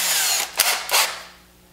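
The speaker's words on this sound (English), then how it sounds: "I'm gonna do all this with my handheld drill." A handheld power drill drills into a block in a short burst, its high whine cutting in and out twice before it winds down, heard close up with no talking.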